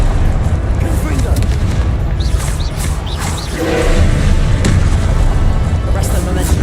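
Confringo spell blasts go off in Hogwarts Legacy, a loud, continuous wall of booming, crackling rumble that swells and stays dense throughout, with brief higher whooshing streaks over the top.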